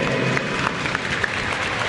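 A crowd at an MMA event applauding two fighters as they embrace after the bout, a short, dense burst of clapping that holds steady at moderate loudness without speech over it.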